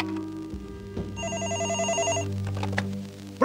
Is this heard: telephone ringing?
yes